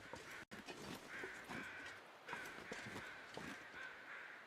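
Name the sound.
crows cawing in the video game Voyageur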